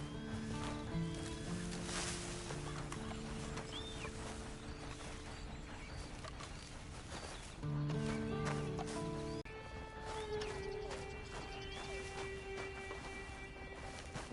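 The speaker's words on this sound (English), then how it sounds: "And you better get on this horse." Horse sounds from the video game Red Dead: hoofbeats clop along under game music and ambience, with a whinny among them.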